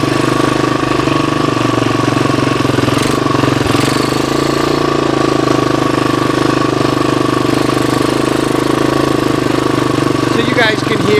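A 1985 Honda 250ES motorcycle engine running during a ride after years of sitting unused, a loud, steady droning hum that stays constant from start to finish.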